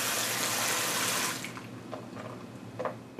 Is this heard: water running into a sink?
yes